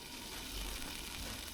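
Eggplant fries in oil over a wood stove, giving a steady, even sizzle with a soft crackle that stays faint and constant throughout, with no voices.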